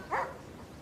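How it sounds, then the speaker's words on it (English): A single short dog bark, a quick clear bow-wow over quiet empty-street ambience, set into a park scene. "Put in a dog barking."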